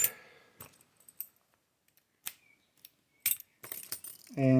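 A bunch of many keys jangling and clinking as someone searches for the right one, sounding in scattered short bursts with quiet gaps between, close by, with a brief low voice-like sound at the very end.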